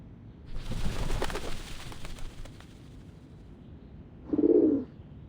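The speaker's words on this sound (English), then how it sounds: "The doves of the Whitestone House are here." Doves cooing at Whitestone House in the video game Reverse: 1999, a single short, fairly loud burst of low coos near the end, following a stretch of ambient game sound.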